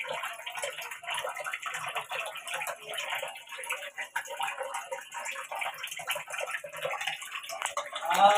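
A thin, hair-fine stream of water trickles steadily from a kitchen tap, giving a soft, continuous splashing with faint ticking drips throughout, fairly quiet and close.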